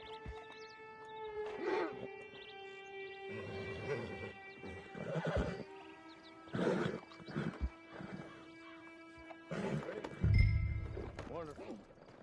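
Horse neighs and whinnies with hooves clopping in Red Dead Redemption 2, several loud calls scattered over a droning background while characters talk.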